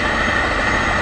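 A helicopter's steady rotor and engine drone fills a brief moment, loud and unbroken with no pauses.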